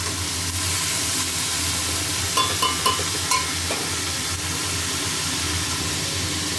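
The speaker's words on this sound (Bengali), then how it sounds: "বড়িটাকে ভালো করে ভেজে নিয়ে এবারে কুমড়ো দিচ্ছি। কুমড়োটাও ভালো করে ভেজে নেব।" Pumpkin pieces frying in hot oil after fried lentil dumplings in a home kitchen, a steady loud sizzle with a few brief clinks of stirring partway through, no talking.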